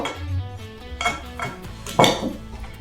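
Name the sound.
stirring a cinnamon and nutmeg mixture for dipping apples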